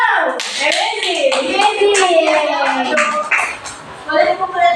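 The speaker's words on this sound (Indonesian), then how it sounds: "Tepuk tangan untuk kelompok satu." Elementary school class claps hands for a group in a math lesson, quick patter of clapping mixed with cheering voices and an adult speaking throughout.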